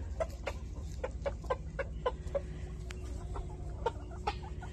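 Hens, including black hens, cluck repeatedly in a backyard flock: a run of short, sharp clucks at an uneven pace over a steady low murmur, fairly close, with no voices.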